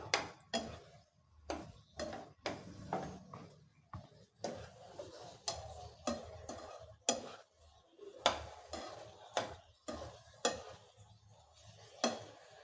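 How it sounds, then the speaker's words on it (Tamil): Spoon scraping and knocking around a pan in quick irregular strokes, stirring meal maker soya chunks into a thick masala, with soft clinks and pauses between. "இப்போ அந்த மசாலாவோட நல்லா அந்த மீல் மேக்கரை கலந்து விட்றலாம்"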